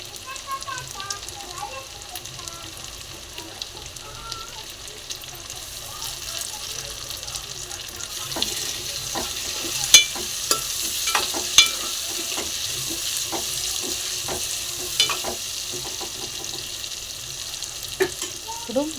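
Tomatoes softening in hot oil for a boiled-egg fry curry, giving a steady low sizzle with scattered sharp pops and crackles toward the middle and end, close by, with a spoon occasionally stirring.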